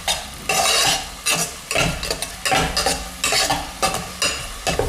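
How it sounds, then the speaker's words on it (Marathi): Two finely chopped onions sauté in hot butter and oil, a spatula stirring and scraping the pan in regular, close bursts over a soft sizzle. "कांदा आता आपल्याला यामध्ये थोडासा परतून घ्यायचा आहे"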